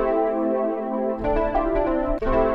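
Blue keys patch from the Noteneck 2 synth plugin, a held chord that shifts into brighter struck keyboard notes and chords partway through, steady and clear, no talking.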